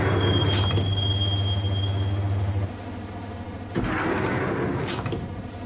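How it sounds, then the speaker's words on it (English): Train in the game Max Payne rolling on rails, a continuous rumble with a low drone and a high wheel squeal early on, the noise dipping and then swelling again with a clatter. "the train doors had already shut behind me, and I was in for the ride"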